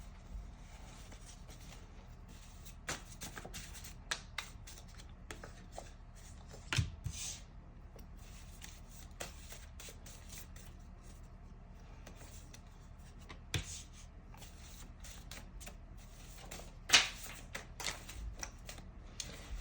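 Soft, intermittent riffling and flicking of a deck of oracle cards being shuffled by hand, quiet irregular bursts of papery slaps and clicks against a low room hum.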